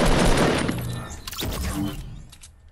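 Loud, close shotgun blasts in Fortnite Battle Royale: a heavy opening burst, then another sharp crack about a second later, each with a ragged, noisy tail that fades out.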